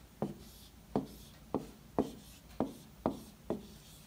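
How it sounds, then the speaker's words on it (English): Marker strokes on a Smart Board whiteboard, seven crisp short scrapes in an even rhythm, close and fairly quiet with no talk. "It's going to allow us to write on basically just a blank whiteboard."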